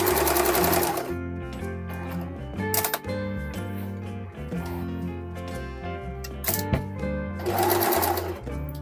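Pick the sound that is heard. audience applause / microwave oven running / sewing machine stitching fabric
sewing machine stitching fabric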